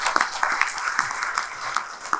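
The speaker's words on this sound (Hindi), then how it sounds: "और आप तालियां बजाइए" Applause from an audience at a product event in India, as a presenter honours the product's inventor; a dense, steady patter of many hands clapping with scattered sharper claps throughout, fairly close and loud.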